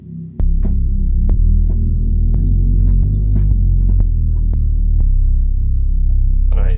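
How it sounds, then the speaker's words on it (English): A Subfocus-style Reese sub bass patch built in Native Instruments Massive, a deep, sustained, throbbing low drone with slowly shifting pitch and faint clicky transients on top, heavy and continuous until it stops. "the Reese sounds like this"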